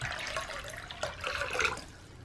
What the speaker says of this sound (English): I actually need to fill up the dog's water.